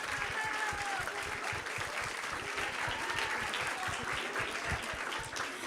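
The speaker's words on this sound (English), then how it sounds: "So a huge, huge round of applause to all of them who are all behind you." Sustained audience applause fills a celebration gathering honoring a spiritual teacher, a dense steady wash of clapping from many hands, fairly loud and continuous throughout.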